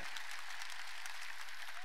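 Members of a church congregation clap during a worship service. The clapping is soft and steady, a brief continuous patter of many hands.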